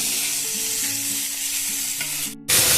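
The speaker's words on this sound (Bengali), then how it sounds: "খুব ভালো করে এগুলোকে মিশিয়ে নেব।" A spiced mixture with fried lentil dumplings and banana stem is stirred and mixed in a hot frying pan, giving a continuous loud sizzle with scraping strokes. A sharp burst of louder sizzle comes near the end.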